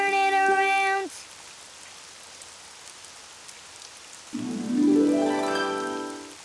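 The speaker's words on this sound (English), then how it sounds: "Oh, it's raining outside." Steady hiss of rain falling outside in a children's video game, filling a quiet stretch between bright synthetic musical tones at the start and a rising chime sweep near the end.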